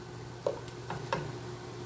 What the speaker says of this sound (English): Just gonna keep sauteing them until they soften down.